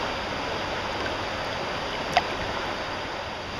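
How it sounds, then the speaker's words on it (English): Steady rushing of water flowing in a stream on a June day in Woodstock, a continuous broadband wash with no talk and one brief faint click partway through. "enjoy the sound of the water flowing in the background on this beautiful June day here in Woodstock"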